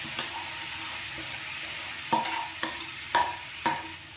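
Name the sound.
frying boiled drumstick flowers with spices in a pan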